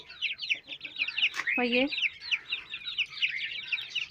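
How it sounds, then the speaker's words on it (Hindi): A hen with her chicks: dense, high peeping from the chicks runs throughout, close and steady, while the hen gives a lower, drawn-out cluck midway. Someone speaks briefly over them. "ये देखिए, ये है हमारी मुर्गी"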